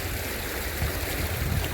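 Water rushing along a narrow channel cut outdoors at a picnic spot, a continuous broad gushing roar that is close and fairly loud, with no voices.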